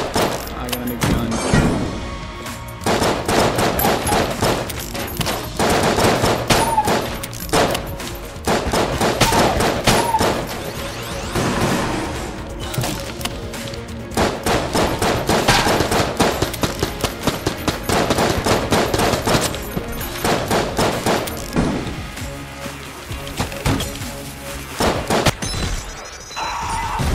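A newly picked-up gun fires in Enter the Gungeon, loud rapid bursts of gunfire repeating throughout amid busy game music and effects.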